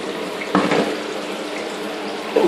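Water from a double waterfall system splashes steadily into a hydroponic growing tub, a constant close rushing patter with a couple of brief louder splashes.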